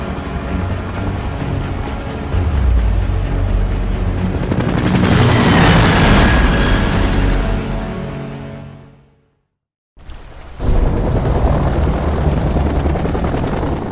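A loud helicopter rotor in the video game Gears of War thrums steadily, swelling to a roar before cutting out abruptly for a moment, then resuming just as loud.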